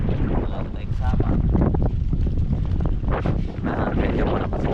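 Strong sea wind buffets the microphone on a small fishing boat offshore, steady and rough with gusting roar, while someone talks over it.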